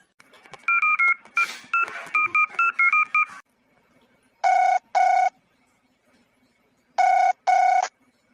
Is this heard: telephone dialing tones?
yes